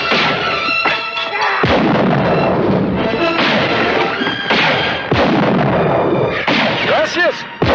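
Gunshots from a gun in a 1964 American western film, a series of loud sharp bangs spread across the clip over background sound, with a voice near the end.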